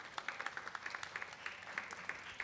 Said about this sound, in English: Let's all give him a big round of applause.